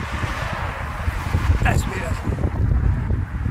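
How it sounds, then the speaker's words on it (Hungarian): Strong wind buffets the microphone on the Croatian seashore near Paklenica, where two seas meet, gusting in uneven rumbling bursts beneath someone speaking close by. "Van itt akkora szél"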